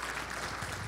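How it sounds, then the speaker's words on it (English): Hand clapping from a church congregation during a morning service, a short burst of dense, steady applause throughout. "Give the Lord a hand clap this morning."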